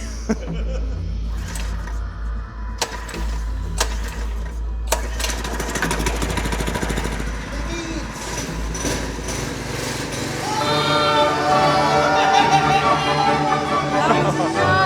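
The small engine of a homemade, scratch-built go kart starts and drives off, a steady low rumble that rises toward the end while several people talk and cheer over it.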